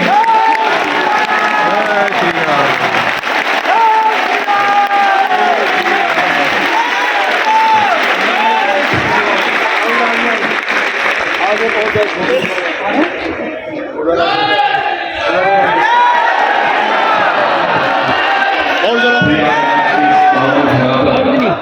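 At a Maha Kumbh religious gathering, a large crowd applauds and cheers loudly for a long stretch, shouts and chants rising over dense clapping, with voices calling out amid the roar.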